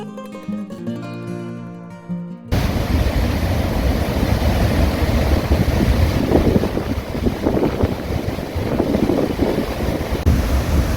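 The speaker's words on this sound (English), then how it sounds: "behind me is the water that's coming out of Wellington Dam" Water pouring from the spillway of Wellington Dam, a steady broadband roar with wind buffeting the microphone; a short musical passage plays before the rushing water cuts in loud and continuous.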